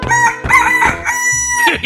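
Cartoonish rooster crow from a 3D animal sliding video game, a loud, close cock-a-doodle-doo of about two seconds with a couple of rising and falling bursts and no talking over it.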